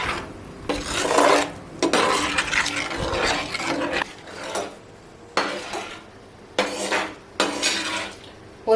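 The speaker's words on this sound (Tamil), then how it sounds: "சேர்த்து நல்லா கலந்து விட்டுலாம்" Tamarind water being stirred into masala in a cooking pot, giving repeated scraping and rasping bursts of a spoon against the metal, close and fairly loud, with short pauses between strokes.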